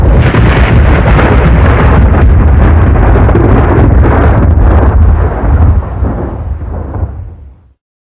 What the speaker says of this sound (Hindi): आसमान में तेज बिजली कड़की।